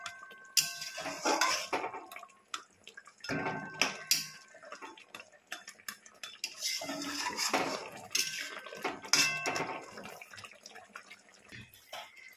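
A spoon clinks and scrapes against a metal pot while rose water is stirred into rezala, in irregular bursts of clattering with soft liquid sloshing between, close and fairly quiet, with no talking.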